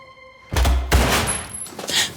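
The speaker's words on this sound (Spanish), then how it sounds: "Ese fue un disparo." A single loud gunshot booms with a deep thump in a television drama scene, followed by a brief echoing tail and a second fainter burst.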